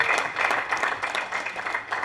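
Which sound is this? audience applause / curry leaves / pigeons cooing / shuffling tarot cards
audience applause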